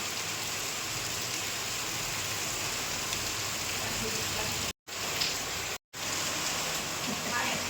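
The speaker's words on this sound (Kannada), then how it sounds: "ಮಳೆ ತುಂಬ ಜಾಸ್ತಿ ಬರ್ತಾ ಇದೆ" Heavy rain pours down in a steady, dense hiss, interrupted by two brief silent gaps.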